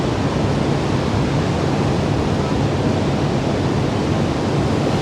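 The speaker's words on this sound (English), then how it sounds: "Sitting here with a nice cappuccino and just relaxing and looking out at those waves." Ocean waves breaking in a curved bay below a headland, a dense continuous broadband roar of surf, loud and steady throughout with no voices.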